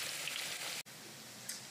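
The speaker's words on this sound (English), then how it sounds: "The fries are frying." Fries frying in hot oil in a home kitchen give off a continuous soft, hissing sizzle with small crackles, heard faint and alone.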